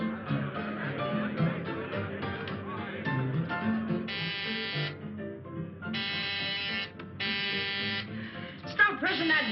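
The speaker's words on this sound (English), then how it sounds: "Stop pressing that buzzer." A door buzzer in a 1946 crime film is pressed again and again, sounding in several harsh, flat, sustained bursts of about a second each, interleaved with people talking.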